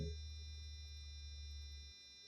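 A used air conditioning compressor runs in a BMW E46 with the N42 engine, giving a steady low hum with a faint high whine that cuts off near the end.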